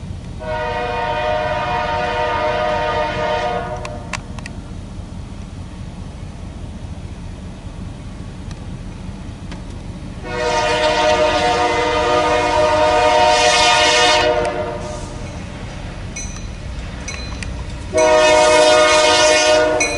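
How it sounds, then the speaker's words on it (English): A loaded eastbound coal freight train on a desert main line crosses a rail diamond, its horn blasting loudly in three long stretches over a steady rumble of rolling cars and wheel clatter. "Crossing the diamond. with loaded coal heading east."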